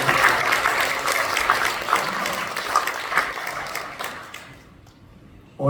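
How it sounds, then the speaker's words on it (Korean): A church congregation claps in thanksgiving during a unification worship service, with a loud, sustained round of applause that thins out and fades toward the end. "우리 모두 감사의 박수를 먼저 우리 주님께 올려드립시다."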